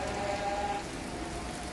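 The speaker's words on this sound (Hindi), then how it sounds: "यहाँ पर आपको सामने नज़र आ रहा है कि कितनी ज़्यादा बारिश हो रही है" Heavy rain pours steadily in Saudi Arabia, a dense continuous hiss close by, with a faint tonal sound briefly in the background.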